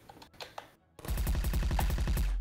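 Rapid automatic gunfire in the game Trouble in Terrorist Town, a dense run of close, loud shots starting after a brief quiet gap and a few faint earlier noises, continuing steadily to the end.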